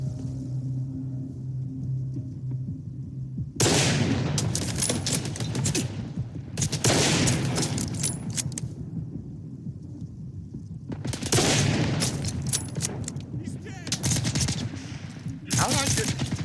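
Automatic gunfire in the shooter game S.T.A.L.K.E.R. 2 comes in two long, loud sustained bursts separated by quieter ambient rumble, with a shorter burst near the end.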